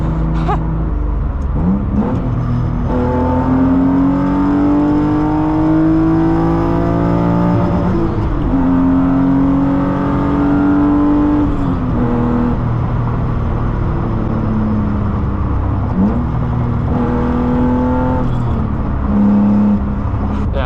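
A BMW E36 M3 with a manual swap and an M50 intake manifold accelerates hard on a highway. Its engine note climbs loud and steady through the revs, and it drops briefly at each gear change before rising again.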